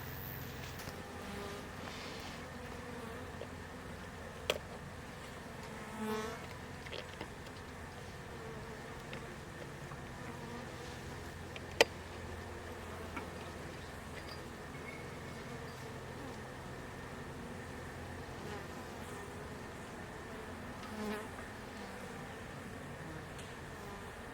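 Honeybees hum in a steady, dense drone close by at a hive entrance in woodland in Italy, with a few faint clicks and a sharp tick rising briefly above the buzz.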